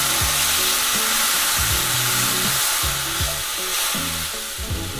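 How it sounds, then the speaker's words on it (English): Loud, steady sizzling from a pan of seared salmon as white wine goes in to deglaze, a bright hissing wash with rhythmic scraping and stirring thuds underneath, continuous and close throughout. "now what I'm gonna do is deglaze with white wine"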